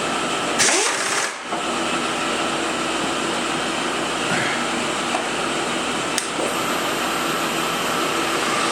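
An Acer milling machine cuts metal at about 3,000 RPM, a steady loud mechanical hum and whir with a couple of brief knocks, continuous throughout with no talking.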